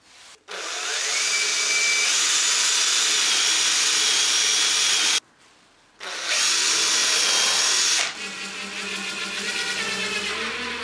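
A power drill drives a screw into a wooden frame in two long, loud, high-pitched whirring runs separated by a short pause, then a rougher grinding tail, with no talk.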